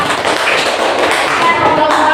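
Applause for group 2 in a classroom: a dense, steady patter of many hands clapping at close range, continuous throughout.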